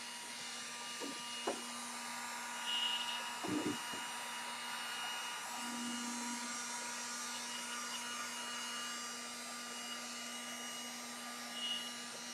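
A heat gun blows a steady, moderately loud whooshing hum while shrinking plastic wrap around a product, with a few faint knocks and rustles underneath.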